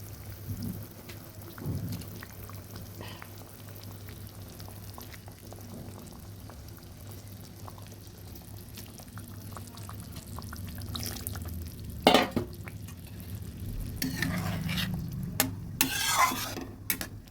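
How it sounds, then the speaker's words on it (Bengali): Pomfret fish pieces going into boiling gravy, a soft steady bubbling with a low hum, then a few splashy plops and clinks of a utensil near the end; no voices. "এবার মাছগুলো দিয়ে দিচ্ছি"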